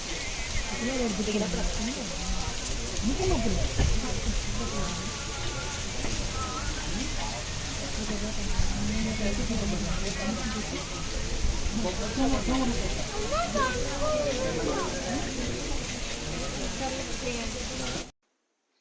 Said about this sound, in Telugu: చూస్తున్నారు కదా ఎంత పెద్ద వర్షం